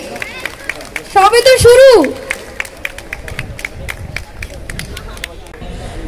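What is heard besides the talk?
audience clapping at a gathering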